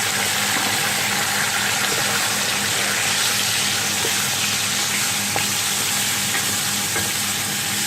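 Chicken pieces fry in a pan with sautéed garlic, giving a steady, loud sizzle with occasional stirring scrapes throughout and no voices.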